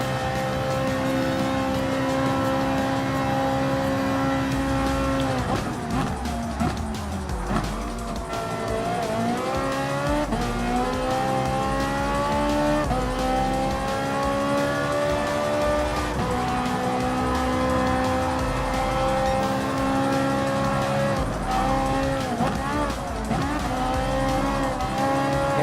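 Ferrari 458 Italia GT3 race car engine in Gran Turismo Sport, a loud continuous high-revving wail with rising and falling pitch through gear shifts, braking dips and brief tire squeal, heard alone without talk.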